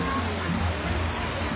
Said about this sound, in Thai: ตอนนี้ฝนตกนะเจ้า